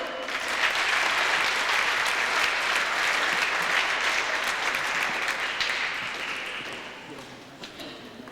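A crowd applauds the Suns, champions of a little league youth basketball league, at a gym championship event, sustained broad clapping that gradually fades toward the end, with a voice briefly over it.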